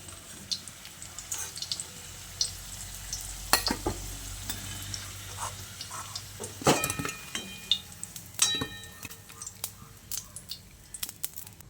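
Potatoes frying in hot oil in a pan for a vegetarian aloo dum, a steady sizzle broken by sharp clinks and scrapes of a spatula stirring, close and fairly quiet.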